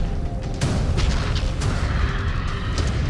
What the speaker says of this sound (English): I'm going to bomb with LRMs.